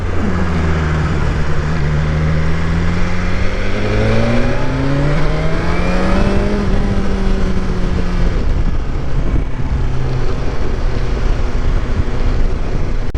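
A 2020 BMW S1000XR motorcycle accelerates on a commute ride, its engine note climbing through rising pitches beneath heavy, constant wind rush.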